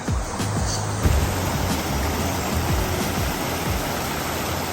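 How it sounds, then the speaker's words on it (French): A small waterfall cascade rushes steadily nearby, heard as a constant broadband hiss of falling water, with faint low rumbles underneath and no voices. "Ici, il y a une fontaine. Enfin, une fontaine, une cascade."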